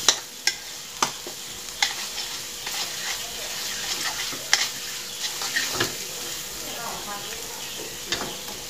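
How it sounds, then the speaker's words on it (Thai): Clams stir-fried with roasted chili paste in a pan over low heat, a steady sizzle with frequent scraping and clinking strokes of the utensil against the pan, loudest at the start. "คนให้เข้ากันเลยผัดให้เข้ากันเลยครับ"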